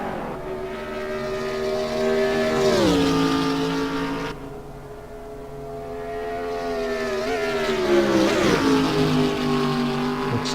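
Race car engines in the simGT sim racing game at Monza, loud whining drone that rises through the gears, dips as the car brakes and downshifts for a corner, then climbs again, heard close with no talk.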